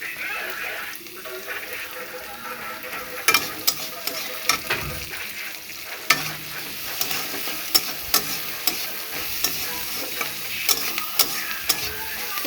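Food sizzles steadily in a frying pan as a spoon stirs and knocks against the pan in repeated clicks, with a little background talk at moments.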